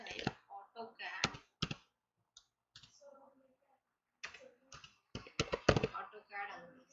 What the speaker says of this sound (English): So let us type AutoCAD.